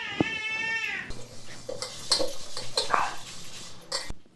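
Clinks and scrapes of dishes being scrubbed and washed by hand, a few sharp metallic knocks, with a child's brief high wavering cry at the start.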